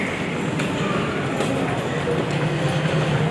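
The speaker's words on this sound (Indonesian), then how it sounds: "Nah, sekarang kita sudah naik kereta layang ya." Steady rumble of an elevated airport rail line running toward Soekarno-Hatta airport in Jakarta, a continuous low rolling drone with faint rail clatter heard from inside the car, with people talking over it.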